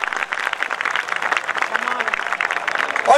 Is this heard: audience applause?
yes